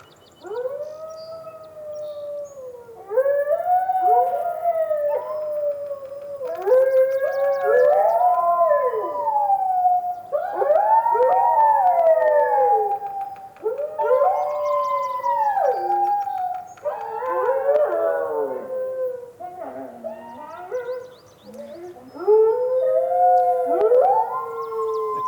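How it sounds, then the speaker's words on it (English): Recorded wolves howl in long rising and falling calls, one voice starting and others joining to overlap in layered chorus, loud and sustained, with short gaps between the howls. "could you play the wolf example, please? That's one wolf."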